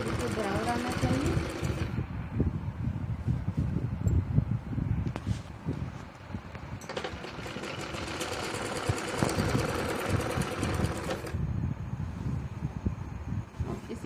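Domestic sewing machine running topstitching along a full-flare Punjabi Patiala salwar, a steady mechanical whir that starts and stops in bursts with soft fabric rustle and handling noise between runs.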